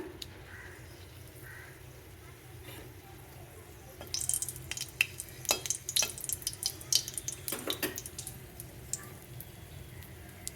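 Dried red chillies fry in a little oil in a pan, giving a soft crackle that grows busier halfway through with scattered sharp pops and spits, fairly close.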